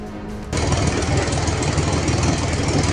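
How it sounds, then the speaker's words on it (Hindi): A tractor engine roars steadily while pulling a car stuck in urban floodwater after heavy rain, loud and close with a rough knocking rumble that swells abruptly after a quieter opening. "इसी बीच इस महिला की कार पानी में फंस गई, जिसे ट्रैक्टर की मदद से बाहर निकाला गया।"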